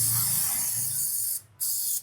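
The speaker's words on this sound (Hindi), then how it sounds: "इस पार्ट को थोड़ा हम स्प्रे कर देते हैं, थोड़ा क्लीन कर देते हैं।" Cleaner sprayed onto the throttle position sensor part of a Pulsar 125 BS6 E20 motorcycle, a long close hissing burst, a brief pause, then a second shorter spray.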